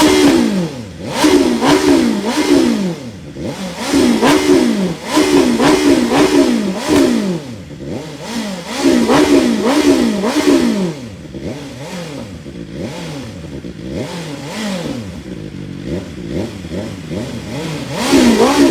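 A motorcycle with a slip-on exhaust, either a BMW S1000XR or a Ducati Scrambler 800, revs repeatedly up and down close by, its loud engine rising and falling in rhythmic blips with no talk.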